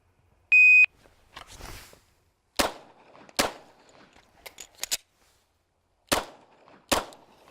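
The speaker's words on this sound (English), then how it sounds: "All right, 5 yards, stock Glock 19C." Shots from a stock Glock 19C pistol on a range at 5 yards. A shot timer beep comes first, then six sharp, loud reports arrive in uneven pairs and singles with short gaps.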